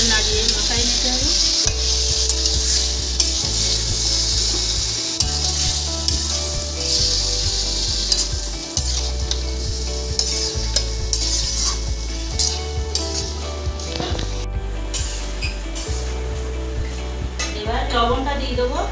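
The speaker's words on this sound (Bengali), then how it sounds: "মাংসটা ভালো করে নাড়িয়ে মাখাই নিতে হবে।" Chicken pieces being stirred and fried in a pan for Bengali-style chicken kosha: a steady sizzle with repeated scraping and clanking of a utensil against the pan, close and continuous.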